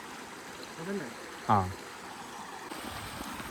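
Steady rushing water of a forest stream on the Devkund waterfall trek in Maharashtra runs throughout, with a brief voice and a short call breaking in near the middle.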